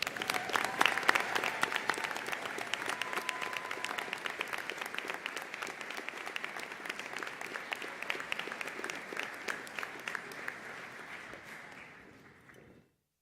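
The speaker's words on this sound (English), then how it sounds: "Give yourself a round of applause." Graduates and guests at a college commencement ceremony applaud in a bright, crisp roar of many hands that holds steady, then tapers off and fades to silence near the end.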